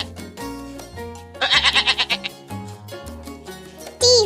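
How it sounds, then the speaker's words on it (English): A sheep bleats in a quick run of wavering pulses partway through, set against light background music with a brief high note at the end. "S for sheep."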